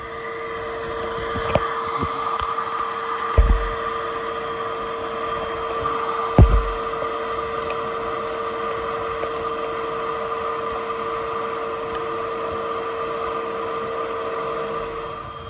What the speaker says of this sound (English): Do you need more vacuum pressure?